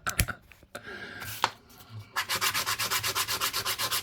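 Sandpaper rubs against a one penny coin being shaped into a ring, first with a few scattered scrapes and knocks, then a close, steady back-and-forth rhythm of rapid strokes.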